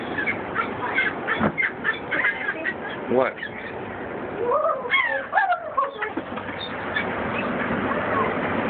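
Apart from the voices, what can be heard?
seagulls calling while being fed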